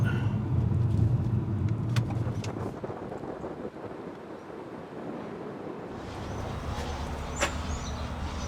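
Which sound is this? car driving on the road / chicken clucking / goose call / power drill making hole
car driving on the road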